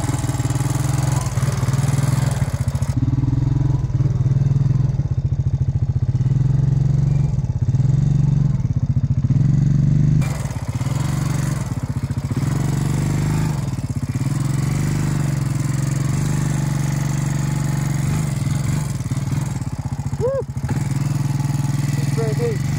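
A new Honda Rancher ATV engine revs and labors loudly up close as it drives into mud, with its pitch rising and falling in repeated surges and some clatter. The engine runs without pause and there is no talk.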